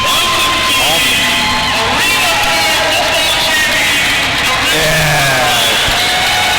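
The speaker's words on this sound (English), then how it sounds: "Well-deserved round of applause for the Richmond Rough Riders." At a Richmond RoughRiders game ring ceremony, a crowd roars and whoops in a loud, steady wash, with a voice speaking over the noise.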